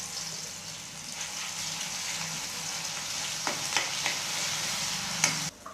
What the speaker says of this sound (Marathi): आता आपण भाजीला फोडणी करणार आहोत त्याच्यासाठी तेल गरम करायला ठेवलं व त्याच्यात जिरं मोहरी टाकून घेतलेली आहे त्याच्यामध्ये आपण आता अद्रक लसूण पेस्ट टाकणार आहोत